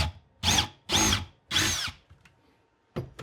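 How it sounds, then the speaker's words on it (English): A power drill with a 7/16 drill bit enlarges a hole in a budget detail sprayer, running in three short close bursts and then a brief final one, with quiet pauses between them. "Drill that out just a little bit more."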